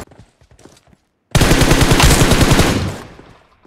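Loud automatic gunfire from PUBG Mobile on the Livik map rips out in one sustained, dense burst lasting nearly two seconds, preceded by faint scattered taps and followed by a quick fade.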